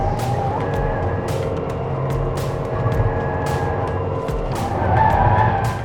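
Tata Altroz Racer hatchback with a 1.2-litre turbo-petrol engine driven hard on a race track, its engine droning steadily with tires squealing and skidding through corners, loud and continuous.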